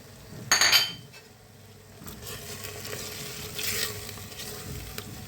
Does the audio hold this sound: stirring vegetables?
yes